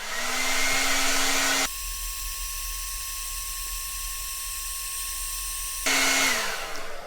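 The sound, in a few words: hair dryer running on high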